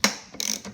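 A ratchet wrench clicks during a big-turbo Toyota Supra build: a sharp opening snap followed by a rapid run of close, moderately loud clicks, then a softer tail.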